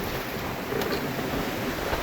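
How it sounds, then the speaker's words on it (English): Choppy, steep waves of about five or six feet roll at sea under 25-knot wind, a continuous loud wash of surf and gusty rush close by, with no voices. "these waves, they're only 5 or 6 foot, but they're kind of jumbled and they're steep little rascals"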